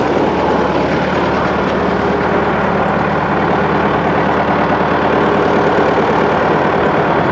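A tractor engine pulling a sugarcane weeder runs steadily and loudly at close range, a constant low droning rumble with no pauses.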